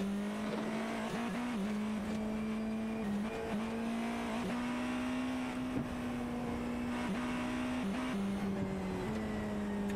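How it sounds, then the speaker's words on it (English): A Porsche race car engine screams at a steady high pitch with brief gear-change dips as it tops out entering turn 4 at the 4 Hours of Sao Paulo, loud and continuous with tire noise and no voices. "Hearing that Porsche top out here entering turn 4"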